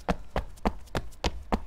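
In the video game The Dead Linger, a walking character's footsteps thud loudly in an even rhythm, six heavy steps close up with no talk.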